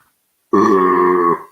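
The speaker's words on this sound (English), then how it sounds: "You should not belch like that on a live stream." One loud, close belch, deep and sustained for nearly a second, booms out after a moment of silence during a casual live stream.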